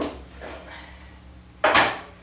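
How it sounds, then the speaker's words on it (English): A home oven door is opened and a baked Italian rice and sausage stuffing dish is lifted out: a few soft knocks and scrapes, then one louder clunk of the door or dish near the end, close by. "I'm going to take the stuffing out of the oven"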